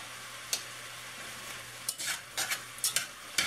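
Mushrooms, garlic and vegetables sauté in a pot for a braised short rib ragu, giving a steady soft sizzle broken by a few sharp scrapes and clinks of a utensil stirring, with no talking.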